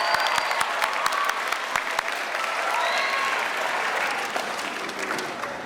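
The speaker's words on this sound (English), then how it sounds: "How about a round of applause for these guys?" Graduation audience at a middle school ceremony applauding staff, a full, steady crowd clapping that carries through the whole stretch with scattered cheers underneath.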